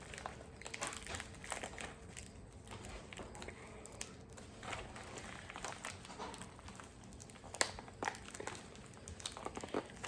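Crinkly plastic nail packaging is opened up close, faint scattered crackles and rustles with a few sharper snaps, quiet throughout.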